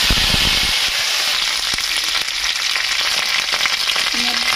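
Curry leaves crackle and spit in hot oil in a wok, a loud, dense sizzle with sharp popping bursts that runs steadily throughout.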